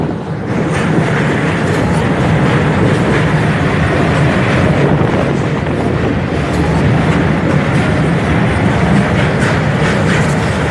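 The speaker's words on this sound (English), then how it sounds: "I'm at the railway station right now." A train rumbles and clatters steadily nearby at a railway station, a dense continuous rolling noise with no voices.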